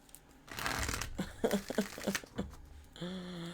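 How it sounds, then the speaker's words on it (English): A deck of tarot cards is shuffled by hand in quick, papery riffles and rustling bursts, close up, with a short voiced sound near the end. "Let me shuffle again, child."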